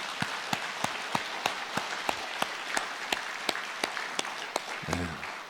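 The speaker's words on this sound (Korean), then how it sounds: "박수 한번 해주시기 바랍니다" A church congregation at a Sunday worship service applauds, with sharp, evenly spaced claps in a steady rhythm, as though only a few people were clapping together, and a brief low voice near the end.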